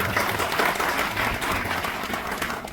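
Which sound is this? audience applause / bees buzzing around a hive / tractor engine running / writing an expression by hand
audience applause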